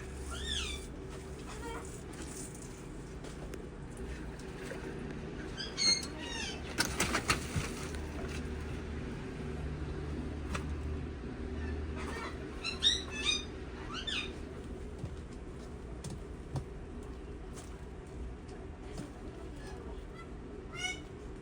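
Pet birds call in the background of a room housing a water monitor lizard: repeated chirps and squawks, faint and some distance off, over a steady hum, with a few brief louder calls.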